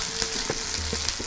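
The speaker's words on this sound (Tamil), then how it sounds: "சின்ன வெங்காயம் சீக்கிரம் வதங்கிடும்." Shallots and garlic fry in a pan with a steady crackling sizzle, punctuated by a few soft knocks of a stirring spoon.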